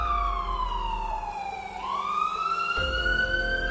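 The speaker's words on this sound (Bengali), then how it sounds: "সর্বনাশ, পুলিশের গাড়ি!" Police car siren wails loud and close, its pitch sweeping down and then back up in a long continuous tone over a low engine rumble.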